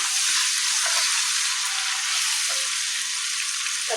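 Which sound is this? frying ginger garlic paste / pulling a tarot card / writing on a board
frying ginger garlic paste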